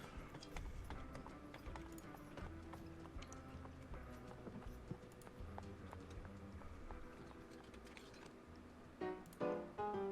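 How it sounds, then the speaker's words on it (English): Horse hooves clip-clop steadily in a town setting, a dense rhythmic patter of many hoofbeats carrying through the whole stretch, with some background music and a brief louder burst near the end. "lot of horses in this town."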